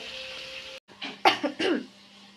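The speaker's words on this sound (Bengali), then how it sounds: "রান্নাঘরের রান্নার ঝাঁজেই আমার এত কাশি হচ্ছে" Coughing in a home kitchen, attributed to pungent cooking fumes: a few close, sharp coughs in a short burst after a brief pause, with no talking.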